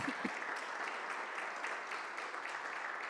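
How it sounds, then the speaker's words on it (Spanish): Church congregation applauding, a steady, moderately distant wash of many hands clapping continuously through the moment, with a faint voice at the very start. "¿Puede dar un aplauso al Señor?"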